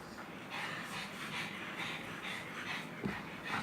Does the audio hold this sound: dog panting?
yes